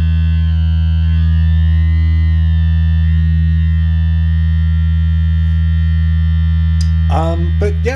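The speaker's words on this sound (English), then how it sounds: "here's a sine wave" The BMC59 MultiPWM synthesizer module outputs a sine wave, a loud, steady, pure sustained tone with low hum beneath it, and a few brief clicks and bursts of noise near the end.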